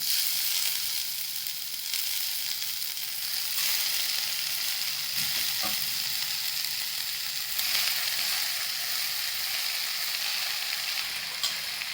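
Wild kurdu greens go into a hot pan and fry, producing a faint, steady sizzle with a light stirring knock midway, with no talking.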